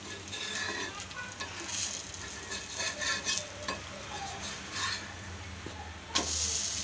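A dosa made from ragi flour and urad dal fries in oil on a pan with a continuous soft sizzle and hiss, plus occasional scrapes and taps of a spatula, close and fairly quiet.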